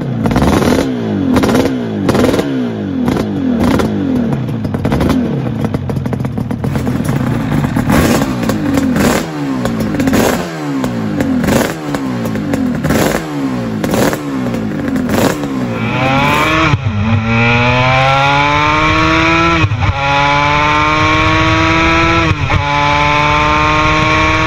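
Two-stroke motorcycle engine, big brother of the Yamaha RD350, revving hard in rapid repeated bursts, then climbing through several rising pulls, loud and close.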